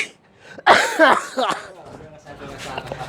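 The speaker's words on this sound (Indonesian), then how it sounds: "saya lagi batuk, jadi kurang fit ya" A person coughs a few times in quick succession, close and fairly loud, followed by softer throat noises and quiet movement.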